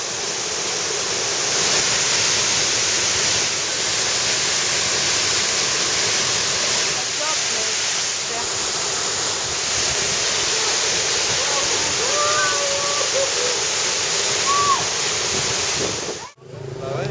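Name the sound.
waterfall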